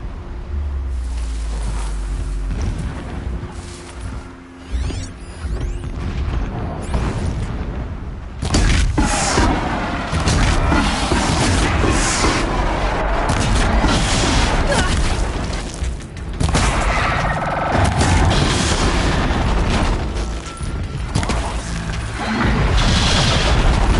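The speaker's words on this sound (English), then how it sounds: "Explosions in the distance." Distant explosions rumble and boom almost continuously in the video game Horizon Zero Dawn, heavy thuds and crackling bursts overlapping into a dense, loud barrage that grows busier partway through.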